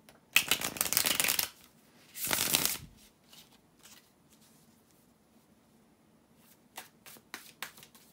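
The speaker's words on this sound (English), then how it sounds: "to shuffle the tarot cards" A deck of tarot cards is shuffled in two quick riffling bursts, close and crisp, followed by scattered light taps and card handling in a quiet room with no talk.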